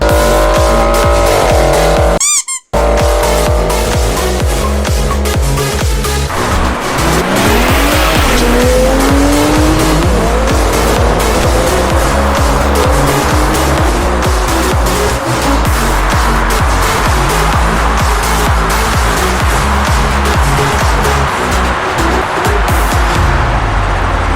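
A Toyota Supra and a Ford Mustang race from a rolling start: loud, close engine roar with a brief cut, then sustained revving, rising pitch sweeps and squealing tires that fill the whole stretch.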